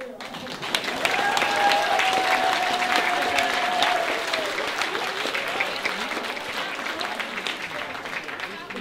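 Sustained crowd applause fills a Christmas special drag show at Mask'ara, loud and dense throughout with whistles and cheers mixed in, and voices carrying over the clapping.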